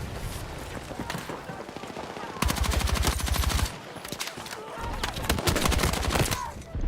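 Sustained bursts of rapid machine gun fire in a video game, with dense rattling volleys and scattered shots over a busy background, heard through a gaming headset.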